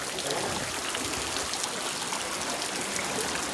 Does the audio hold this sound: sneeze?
no